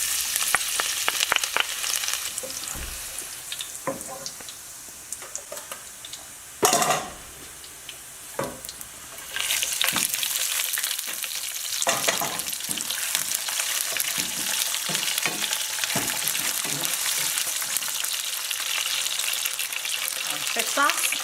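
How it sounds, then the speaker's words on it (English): Tofu and bean sprouts stir fry in hot oil with garlic, a steady loud sizzle broken by scraping and clinks of a utensil against the pan, with one brief pause. "So I'm ready to stir fry everything. So in here is oil and garlic."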